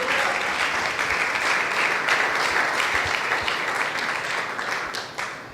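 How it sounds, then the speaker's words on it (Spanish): A church congregation applauds together in a steady, sustained wash of clapping that fills the whole stretch at close range, with no talk over it. "Le damos un aplauso al Señor."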